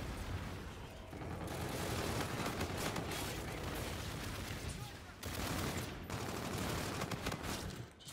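Sustained machine gun fire in the video game Call of Duty: Infinite Warfare, with dense rapid bursts running nearly nonstop and only short gaps, loud and close.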